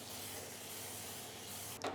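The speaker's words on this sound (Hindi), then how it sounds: "थोड़ा थोड़ा ऑयल स्प्रे करेंगे इस पर।" Cooking oil is sprayed onto a warm pan for crepes in a steady close hiss lasting nearly two seconds, ending in a brief sharper burst, with no voice.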